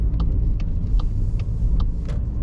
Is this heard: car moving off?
yes